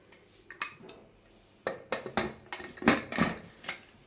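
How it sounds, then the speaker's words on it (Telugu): A pressure cooker lid fitted and locked onto a metal cooker holding jackfruit seeds and water, heard as a run of close, sharp metallic clanks and clicks that grow louder toward the end. "ఇప్పుడు కుక్కర్ బంద్ చేసుకుంటున్నాను"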